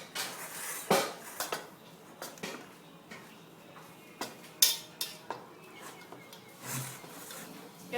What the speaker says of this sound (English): I got a wooden spatula, so I'm gonna use this. So just mash it up.